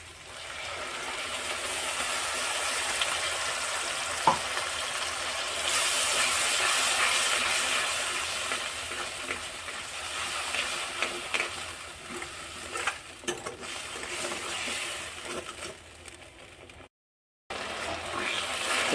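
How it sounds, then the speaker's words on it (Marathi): A soft, hissing sizzle of onion, ginger, garlic and tomato paste cooking in oil, continuous with slight swells and scattered faint clicks, briefly cutting out near the end. "तेलामध्ये एकदम चांगलं परतून झालेलं आहे"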